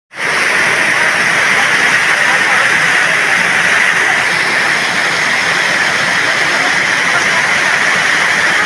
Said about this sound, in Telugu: ముక్తినాథ్ టెంపుల్ ప్రవహించే వాటర్.